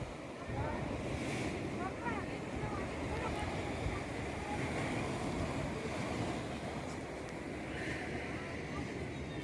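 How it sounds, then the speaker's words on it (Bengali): Steady roar of sea waves crashing on rocks at Kanyakumari, breaking and churning, continuous and fairly loud throughout, with wind buffeting the microphone. "ঢেউটা কীভাবে আজরে পড়ছে আজরে পড়ে শব্দ হচ্ছে সেটাই আমি আপনাদের শোনাচ্ছি"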